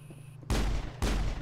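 Two loud, sharp gunshot blasts in the Mass Effect video game, about half a second apart, each with a brief rumbling tail over a faint background hum.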